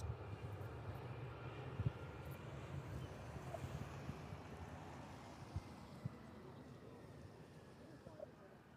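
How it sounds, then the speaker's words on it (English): A Boeing 757 at East Midlands Airport throttles back its jet engines, heard as a steady, distant broadband roar that slowly fades, with faint talking underneath. "Those engines throttling back there on that 757."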